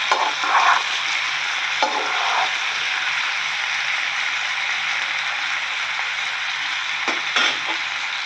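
Mango and tomato fry in a covered pan with salt, giving a steady, even hiss that holds for the whole stretch, with a few faint clinks and stirs and no talking.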